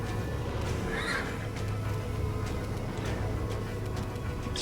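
A horse neighs in a fantasy role-playing game, a whinny sitting over a steady, dense bed of game sound with no one speaking.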